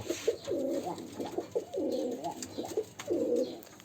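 Domestic pigeons coo in three distinct, rolling bursts at close range, with softer calls in between and no talking.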